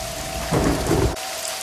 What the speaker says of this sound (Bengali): বৃষ্টিটা আরো জোরে এলো।